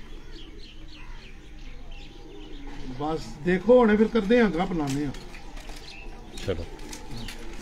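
Pigeons coo on the rooftop of a house in Chak Shahzad, a short burst of rolling, wavering calls in the middle, mixed with voices talking nearby and some faint chirps.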